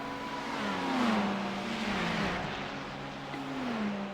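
A Porsche GT3 race car engine in a racing video game, droning loud and steady with shifting pitch sweeps as it accelerates, alone with no talk.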